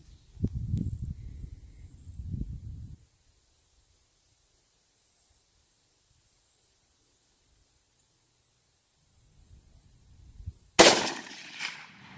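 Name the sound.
Sellier & Bellot 6.5 Creedmoor 140gr FMJ rifle shot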